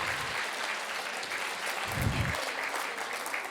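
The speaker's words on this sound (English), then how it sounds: "one big giant applause for the presenters so far" A conference audience at an annual immunisation update breaks into a burst of sustained applause for the presenters, a dense, steady wash of clapping filling the room throughout.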